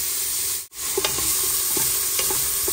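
Chopped onion frying in melted desi ghee, giving a close, continuous sizzle with a few light stirring scrapes and a brief dip partway through.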